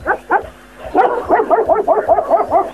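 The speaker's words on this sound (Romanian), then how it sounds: "Vezi să nu te muște, bun câine." Dog barking close and loud, a pair of sharp barks followed by a rapid string of yappy, whining barks with no voices over them.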